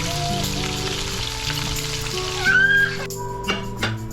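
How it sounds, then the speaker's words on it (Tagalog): Onion sautéing in oil in a frying pan used for pork chops, a steady close sizzle with soft stirring scrapes and a few louder crackling bursts. "Igisa mo lang dyan yung sibuyas, lagyan mo lang, halu-haluin mo lang, hanggang sa mag-translucent na yung onion."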